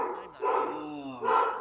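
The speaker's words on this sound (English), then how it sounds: "That is a dog, not in the game." A pet dog barks indoors close by, two loud, drawn-out barks separated by a brief pause.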